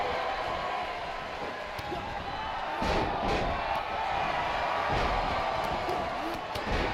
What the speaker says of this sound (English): We have a very small section of the crowd starting to chant "Let's go Tickler" with an echoing "We want t-shirts."